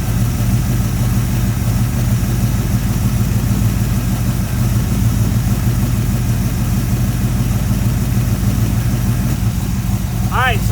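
A Chevrolet small-block 350 V8 idling in a 1974 Corvette during carburetor and timing tuning, a loud steady lumpy rumble close by, with a voice speaking over it.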